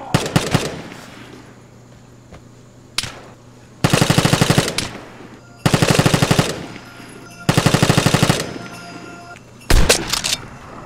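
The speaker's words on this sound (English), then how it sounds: "Weakened him up with the carbine, just lit him up with the shotgun" An M2 carbine and a shotgun fire in the Vigor video game, with a single shot, then three loud bursts of rapid automatic fire and a final heavy blast, all close and punchy.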